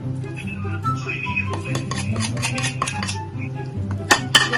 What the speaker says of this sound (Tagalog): So, lagay ko ito, mix ko na.